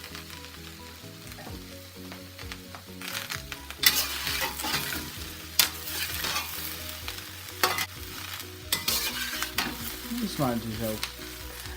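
Thinly sliced mushrooms frying in a hot pan for beef ramen, sizzling with sharp clatters and stirring knocks over background music, and a brief spoken remark.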